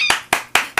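Three crisp, evenly spaced hand claps sound close and loud as a short applause sound effect, with nothing else heard.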